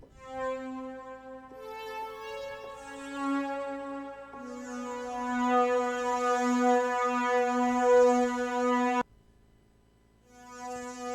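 A soft synthesizer string pad, the Moonlight Arc preset in Logic Pro, plays slow, sustained chords that swell and fade, with a brief drop in level near the end before resuming.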